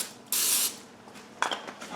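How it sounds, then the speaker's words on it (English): Pam cooking spray hissing into non-stick muffin tins: one sustained, bright spray burst lasting about a third of a second, followed by softer clinks and handling sounds of the tin. "I'm going to go ahead and spray with a little bit of Pam"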